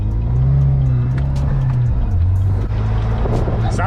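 A Saturn Sky Redline's engine idles and revs steadily up close, a deep continuous rumble with a slight dip in pitch midway, while voices talk faintly over it.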